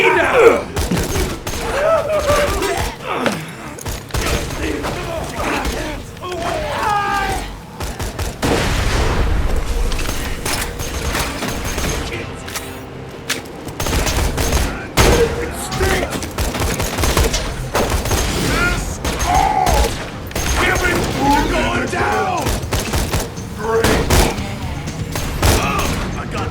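Sustained gunfire rattles through a Borderlands 2 firefight: loud bursts of automatic fire, shots and booms in dense overlapping volleys, with shouting voices and game sounds in the mix.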